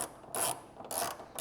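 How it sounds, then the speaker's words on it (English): Standard ratchet with a 14mm socket backing a nut off while installing an X brace on a Toyota MR2; two bursts of quick metallic clicking, close and clear, separated by a quieter pause, with no talking. "I'm just going to use a standard ratchet with a 14mm socket."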